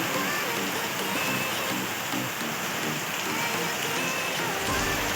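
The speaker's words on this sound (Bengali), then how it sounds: "প্রচন্ড মুষলধারে বৃষ্টি হচ্ছে" Heavy rain pours steadily, a dense continuous hiss of drops drumming on surfaces, loud and close throughout with no pauses.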